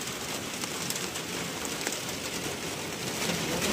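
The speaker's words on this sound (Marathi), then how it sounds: "पावसाची सुरुवात झालेली आहे" Heavy rain in May hisses down continuously, a close, even wash of droplets with no speech.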